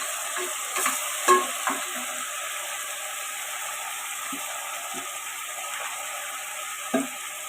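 Coriander and fenugreek leaves fry in oil, giving a steady low sizzle with occasional stirring clanks and scrapes from a spoon in the pot while goat leg soup is being made.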